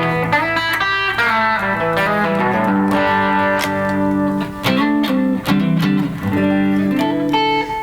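Electric guitar played through EQ, compression, gain and delay pedals straight into a PA system, with loud distorted chords and melodic lines under a trailing echo and no talk.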